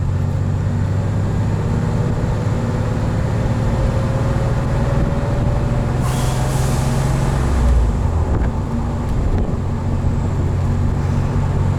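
A 1994 Porsche 964 911 Speedster's engine drones steadily from inside the cabin, low and constant, with a slight rise in pitch partway through as the revs climb.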